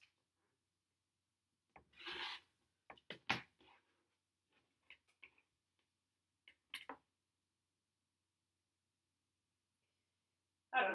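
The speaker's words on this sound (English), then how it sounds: "We're just trimming now." Scattered short scraping and rubbing sounds of trimming a paper-pieced quilt block, several brief bursts separated by quiet gaps, close and fairly soft.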